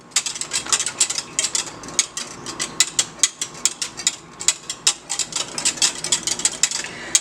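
A whisk scrapes and taps rhythmically against a pot of Bajan-style cornmeal porridge with vanilla, giving quick regular metallic strokes close up that continue steadily throughout.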